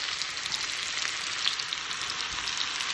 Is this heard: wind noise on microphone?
no